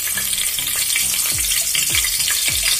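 Whole spices and a bay leaf fry in hot oil for mutton paya curry, a steady loud sizzle with a few scraping stirs of a spoon against the pan, no talking.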